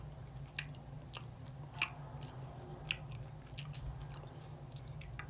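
Close-up chewing of crisp yakgwa, a Korean honey pastry, with soft crunches and a few sharper bites scattered irregularly over a low steady hum; no talking.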